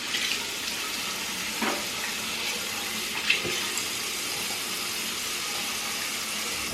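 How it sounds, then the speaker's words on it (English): Water runs steadily from a bathroom sink tap while someone wets their face with cold water, with soft splashes near the start and middle and a single brief spoken word. "I'm going to first start off by wetting my face a little bit"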